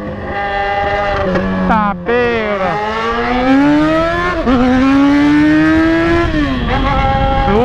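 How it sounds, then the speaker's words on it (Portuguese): A Yamaha XJ6 motorcycle roars and revs hard in traffic, its engine pitch rising and falling through repeated throttle blips, loud and close with brief speech over it. "Berra, Bia, berra igual um leão essa moto."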